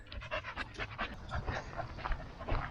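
A pet dog named Moon pants steadily at a flat track motorcycle outing, quick rhythmic breaths close to the microphone with no talk over them.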